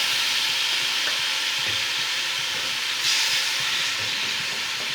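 A steady, loud sizzle of chicken pieces frying in a pot, with a constant hiss and occasional faint stirring clatter.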